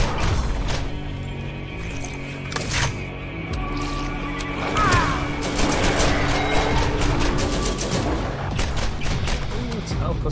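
Player gunfire in the video game Borderlands, repeated sharp shots and heavier blasts scattered through the clip amid game effects and a hum, loud and close, with occasional talking.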